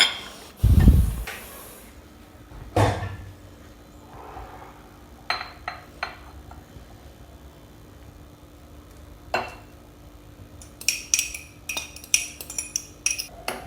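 Ginger curd (inji thairu) spooned from one vessel into another, a scatter of spoon clinks and scrapes against metal dishes with a loud knock early on and a burst of quicker clinking near the end.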